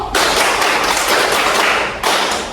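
Five quick hand claps in a high school class clap game, sharp and close, followed by a short pause and a further clap, with no voices.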